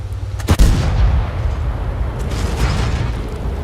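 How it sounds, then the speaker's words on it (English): A tank cannon fires in World of Tanks, one sharp close boom followed by a long rumbling decay under steady low engine drone, with no talking. "That T-34 that I'm shooting at, T-34-85, I guess it is"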